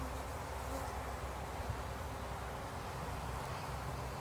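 Honey bees hum in a steady, dense drone around an open hive during a spring hive split, a constant close buzz with no breaks and no voices.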